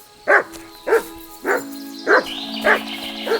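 Mutt, a dog in the video game Kingdom Come Deliverance 2, barks six times in an even, steady rhythm, each bark short and close, with no talk.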